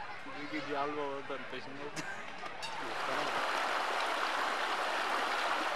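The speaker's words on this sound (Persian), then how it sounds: "شرشر آبشاران نوازشگر روانهای خسته کابلیان" Waterfalls in Paghman near Kabul rush as a broad steady roar that swells and holds loud, with people talking over the start before the water takes over alone.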